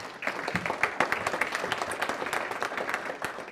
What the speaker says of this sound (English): a quick round of applause for this panel who agreed to join me today